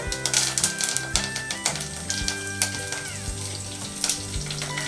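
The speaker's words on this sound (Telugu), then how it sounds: "కొన్ని జీలకర్ర వేసుకొని లైట్గా వేగించుకుంటున్నాను" Cumin and mustard seeds fry lightly in a pan for a festival prasadam dish. The close sizzle is broken by quick, irregular crackles and pops, with a tonal background hum running underneath.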